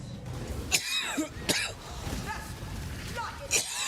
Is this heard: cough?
yes